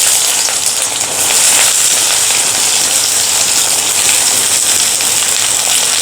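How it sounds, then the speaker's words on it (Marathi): Chopped onion hitting about four spoons of very hot oil in a pan for egg biryani, giving a loud, dense, continuous sizzle close by with no talk. "तेल चांगलं कडकडीत गरम करून घ्यायचं आहे आता यामध्ये आपण प्रथम कांदा घालूयात"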